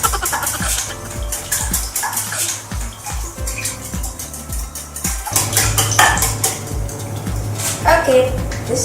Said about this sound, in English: The next step is to put in your milk and just mix it up